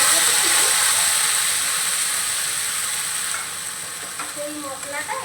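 A ground paste of ginger, tomato and green chili hits hot oil in a pan, giving a loud, close, bright sizzle that slowly fades over several seconds, with faint stirring scrapes near the end.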